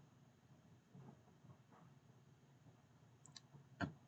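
A single sharp mouse click near the end, preceded by a couple of faint soft clicks, over a quiet background hum.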